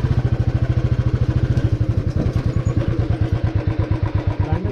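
A motorcycle's engine idles up close with a steady, rapid thumping beat while it is pushed aside to be parked at the Kuldiha wildlife sanctuary in Odisha, and a few light clatters sound over the running engine.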